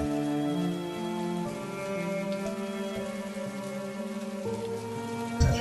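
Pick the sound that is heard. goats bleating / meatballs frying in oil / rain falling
rain falling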